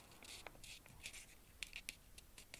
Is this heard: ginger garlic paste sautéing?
no